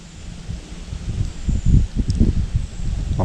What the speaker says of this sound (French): il y a le vent.